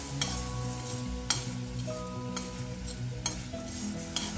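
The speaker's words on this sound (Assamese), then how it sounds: "এতিয়া এনেকৈ লৰাই আছোঁ গুৰখিনি গলি যোৱালৈ।" A spoon stirs jaggery with coconut pieces in a pan as it melts for a barfi, scraping and clinking against the metal in a regular rhythm over a soft, steady sizzle, close and without talk.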